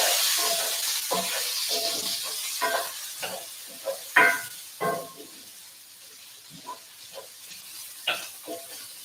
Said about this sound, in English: we have some major sizzling happening back there